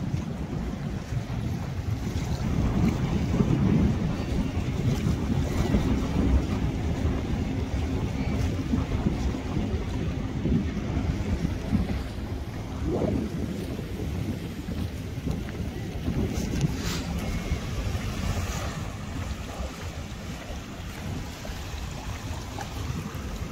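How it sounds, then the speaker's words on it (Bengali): A speed boat out on the sea off a beach at Portimão, its engine a low steady rumble blended with heavy wind buffeting the microphone and waves washing in, continuous throughout with no talking. "speed boat দেখলেনি"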